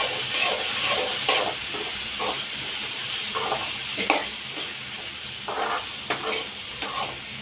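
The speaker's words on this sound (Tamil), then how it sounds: "இதை நல்லா வதங்கட்டும்" Tomatoes and masala for a home-style chicken curry sauté in a pan, giving a loud, constant hissing sizzle with intermittent stirring scrapes and a few sharp clicks, and no one speaking.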